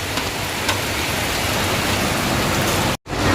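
Steady rain falls outside, a dense even hiss of drops that holds at the same loudness throughout, broken by one very brief dropout near the end.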